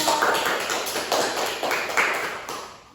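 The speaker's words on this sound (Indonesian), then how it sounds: "Beri aplaus untuk kelompok 2." A classroom group applauds together, a dense patter of many hands clapping steadily and loudly for a few seconds, swelling and easing in waves.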